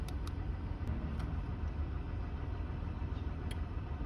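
A fifth-generation Toyota 4Runner engine idles with a quiet, steady low rumble throughout, and no distinct starting crank stands out.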